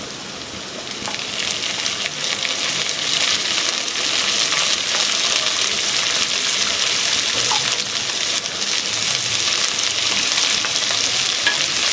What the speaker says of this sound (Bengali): হালকা আঁচে এটা আমি খুব ভালো করে ভেজে নেব।